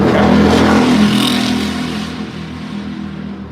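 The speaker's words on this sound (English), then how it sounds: "the late night motorcycle" A motorcycle revs loudly on a neighborhood street late at night, its engine roar close at first, then easing and fading steadily as it pulls away.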